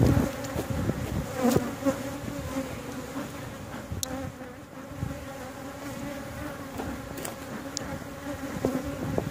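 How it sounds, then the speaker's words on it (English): Honey bees at a backyard hive hum in a steady, close drone, with individual bees zipping past now and then. "I can tell you the bees on there are not the queen."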